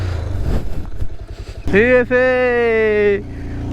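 Bajaj Pulsar motorcycle engine running on a road ride, a steady drone with a brief high revving whine partway through, heard close alongside a voice talking.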